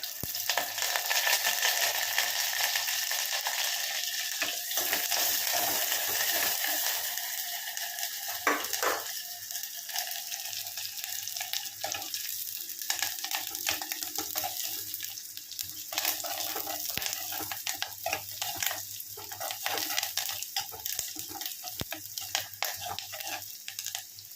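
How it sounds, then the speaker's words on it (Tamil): Onions and curry leaves frying in oil make a continuous hiss and crackle with intermittent stirring clatter, moderately close, no voices. "வெங்காயம் போட்டுக்கலாம். வெங்காயத்தை போட்டுக்கலாம். அப்புறம் கொஞ்சம் கருவேப்பிலை"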